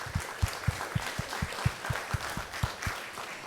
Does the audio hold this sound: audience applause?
yes